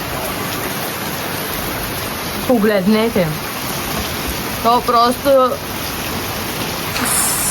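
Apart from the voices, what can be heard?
heavy rain falling outside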